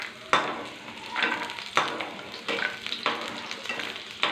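Peanuts frying in hot oil in a pan, with a soft constant sizzle punctuated by sharp, repeated scraping stirs about every half second to second, close and fairly quiet.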